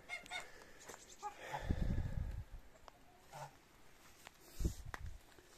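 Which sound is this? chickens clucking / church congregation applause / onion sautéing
chickens clucking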